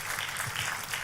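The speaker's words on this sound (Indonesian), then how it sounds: "Kita kasih tepuk tangannya boleh yang meriah buat Tuhan kita." Church congregation clapping together in a steady, dense burst of applause, loud and continuous for about a second with no voices standing out.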